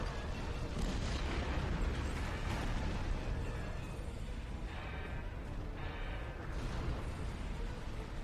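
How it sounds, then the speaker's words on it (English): Detonating charges in Star Trek Online, a dense continuous rumbling roar of blasts and booming bursts lasting several seconds, loud and sustained with no clear gaps. "Detonating charges."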